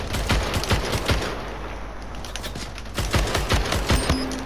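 Rapid sniper gunfire from the arena shooter Splitgate, a dense run of loud, close shots with sharp repeated cracks layered over constant game noise throughout.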